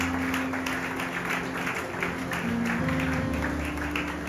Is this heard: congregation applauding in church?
yes